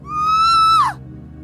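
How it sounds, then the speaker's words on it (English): A sudden scream sound effect from a neighbouring dormitory room: one loud, high, sustained shriek that bends sharply downward and cuts off after under a second, heard alone over a low hum. "there was a sudden scream from the neighboring room 101."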